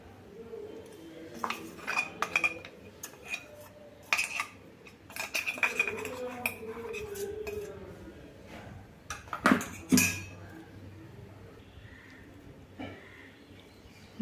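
A spoon scrapes and clinks against a pot as ground makhana is stirred into thickening, reduced milk for kheer, with intermittent metallic knocks and scrapes, close and moderately loud, among quieter kitchen sounds.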